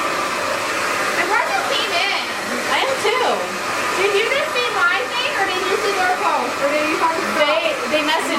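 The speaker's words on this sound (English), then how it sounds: "you're gonna get a lot of volume right now after blow drying" A hair dryer blows hair dry in a salon after a pixie cut, a steady loud whoosh running the whole time beneath people chatting.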